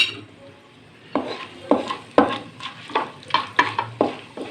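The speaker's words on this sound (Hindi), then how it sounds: "ये हम इस घी में डायरेक्ट डालेंगे" Whole cloves, cinnamon pieces and bay leaves drop into hot ghee and sizzle, with a steady frying hiss beneath repeated sharp scrapes and clinks of a spoon stirring against the pot.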